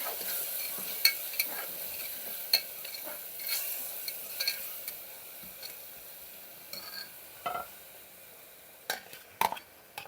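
Tomato, yogurt and spices sautéing in a pan for prawn biryani: a steady soft sizzle with scattered light ticks and scrapes of stirring, moderately close.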